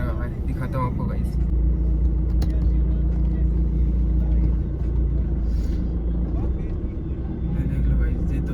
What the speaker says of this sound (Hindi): गाइस यहाँ पे ट्रैफिक लगा हुआ है, दिखाता हूँ आपको गाइस।